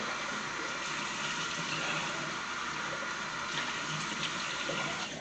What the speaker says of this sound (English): I am gonna splash a little more water on my face.